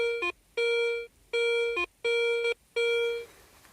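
A metal detector sounds a found coin in a field with four loud, steady electronic tones in a regular on-off rhythm, each a clean pitched beep, close and alone without talk.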